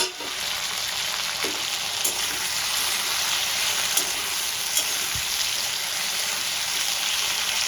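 Potatoes and pointed gourd fry in a pan under a continuous, close hiss of sizzling oil, with a few faint utensil taps and no talking.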